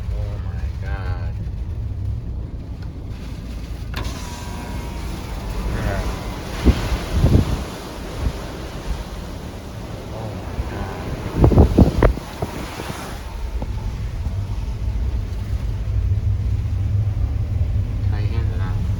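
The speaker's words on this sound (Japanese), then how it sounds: "台風もうそろそろ終わるけど、まだ風強いです。" Strong typhoon wind in Miyakojima, Okinawa, roars steadily with heavy buffeting against the microphone, rising into louder gusts around the middle, while a voice talks over it at times.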